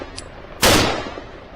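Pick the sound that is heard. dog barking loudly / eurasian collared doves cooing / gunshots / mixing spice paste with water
gunshots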